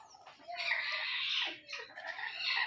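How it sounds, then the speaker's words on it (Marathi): Desi country hens brooding in a village poultry farm keep up a dense, continuous chorus of clucking and chattering, fairly close and steady throughout, with no talk. "आपण कोंबड्या आता उभाण्यावर बसवलेल्या आहेत"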